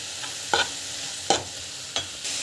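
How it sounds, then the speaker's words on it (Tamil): Vegetables and coconut sautéing in a pan, a constant sizzle broken by three or four sharp scraping stirs of a spoon against the pan, close and clear with no voices. "ஸோ நல்லா வந்து வதக்கிட்டுக்கோங்க."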